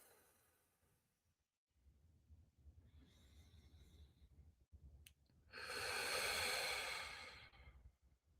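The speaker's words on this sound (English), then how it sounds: "Deep exhale." Deep breathing exercise: soft, close breaths build to one long, loud, airy exhale through the mouth, followed by quiet.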